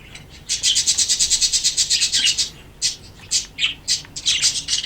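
Budgerigar chicks in a breeding box make rapid, shrill squawking chirps, first as one long pulsing burst and then in shorter repeated bouts, close and loud with no talking.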